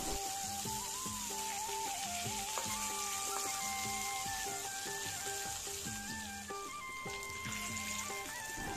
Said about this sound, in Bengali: আর এই পাশে আমি মাছ ভাজতেছি